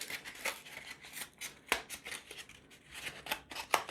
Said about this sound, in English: now we need is a piece of egg box. I'll cut it first.